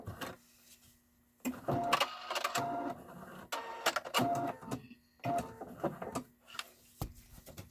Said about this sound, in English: I have stitched along the edge, and that's kind of laid that down flat